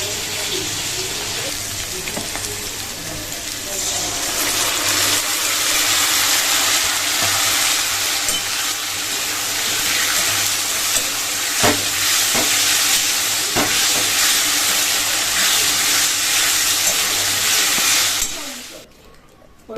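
Cut potatoes frying in a home kitchen pan, a steady broad sizzle that holds for most of the time with a few sharper clicks, then cuts off abruptly near the end.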